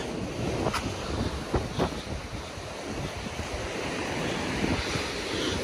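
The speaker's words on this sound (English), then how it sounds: "The waves are really kicking it up." Ocean surf churns and crashes along the Puerto Rico coast near Castillo San Felipe del Morro, with steady wind buffeting the microphone throughout and a few louder wave breaks rising out of the continuous roar.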